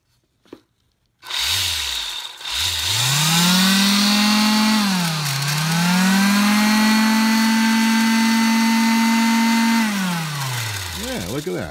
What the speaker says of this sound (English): Why don't you do some sanding?